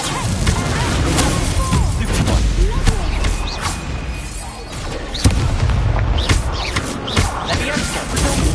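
Fiery Incendio spell blasts in a wizard duel video game, loud booming bursts and crashing impacts in quick succession, with a sharp thump near the middle.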